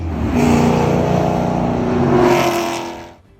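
A race car at Sebring International Raceway accelerates hard along the track, its engine roaring loud and close with a rising pitch before it drops off abruptly near the end.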